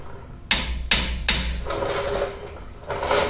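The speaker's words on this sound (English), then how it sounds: "This is a very special tool called the alignment hammer." An alignment hammer strikes a custom metal bumper three times at an even pace, each blow a sharp, ringing clang that is close and loud. A scraping metallic rattle follows after the last hit.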